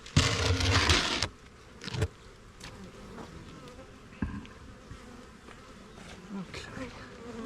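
Bees swarm in a dense, buzzing mass, loud and close at first, then fading to a fainter, steadier hum with scattered nearer passes and occasional knocks.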